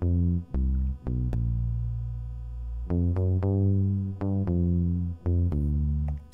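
Classic 80s-style synth arpeggio riffs played back on a Korg Volca Bass and Roland J-6 with chorus and reverb, a loud run of bright, buzzy plucked notes in a repeating pattern with sustained tones.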